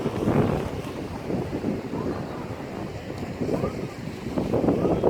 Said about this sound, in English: Oh, it's too windy. The wind is blowing that way